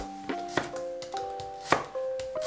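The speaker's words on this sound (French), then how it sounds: "on va juste couper la queue et on les nettoie aussi" A knife cutting the stems off mushrooms, including enoki, on a board, with several soft, close thunks and taps spread unevenly over a couple of seconds.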